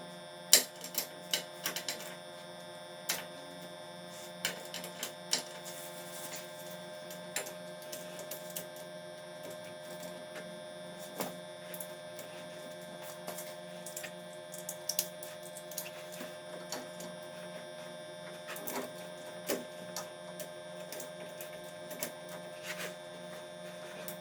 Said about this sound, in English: now that we got everything hand started, we're going to go ahead and torque to specs,